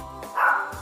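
A single short dog bark rings out clearly on its own, loud and close, with a brief muffled rumble before it.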